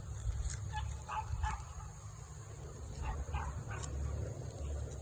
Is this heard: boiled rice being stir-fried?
no